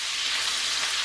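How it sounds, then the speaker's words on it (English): Onions and bacon frying gently in a pan for coq au vin, giving a steady, close, even sizzle throughout. "Next we're going to add our onions and our bacon. What a combo. Just gently fry them off, get a bit of colour on them."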